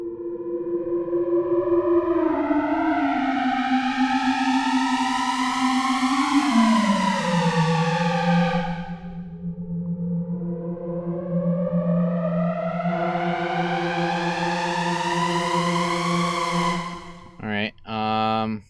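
A synthesizer with a distortion effect holds a buzzy, harmonically rich tone that slides and sweeps in pitch, dips to a gap, then rises again before ending in choppy, stuttering bursts.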